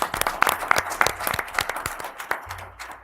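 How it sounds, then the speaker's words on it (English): Applause at a township board of supervisors meeting, a handful of people clapping in a small room with sharp, distinct hand claps that thin out and fade over about three seconds. "So them guys deserve a round of applause for what they did."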